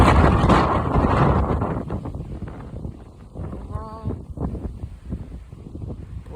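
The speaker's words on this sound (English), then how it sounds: "Because that was a gust right there." Gusty outdoor wind in the wake of Hurricane Ian in Kissimmee, Florida, buffeting the microphone loudly at first and then easing into a steadier rustle, with some faint background noise.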